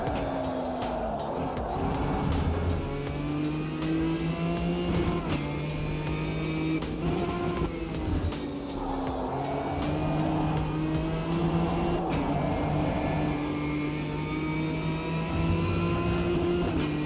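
Several race car engines in a racing video game drone and whine through repeated gear shifts and rising revs, loud and continuous with overlapping engine tones.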